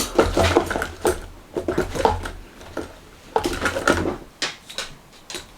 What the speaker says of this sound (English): I'll just rummage through the brush drawer.